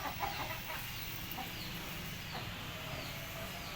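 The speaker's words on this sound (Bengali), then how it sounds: "একটা মুরগি বাইরে বাচ্চা নিয়ে ঘুরে বেড়াচ্ছে।" Native hens clucking on a small backyard chicken farm kept with one rooster; soft, scattered clucks come and go over a steady outdoor background hiss.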